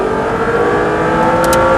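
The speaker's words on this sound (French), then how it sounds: "Allez, gaz à fond dès maintenant. Voilà, laisse monter dans les tours." An Audi R8 sports car engine revs hard at full throttle and steadily climbs in pitch, a loud sustained roar heard from close up.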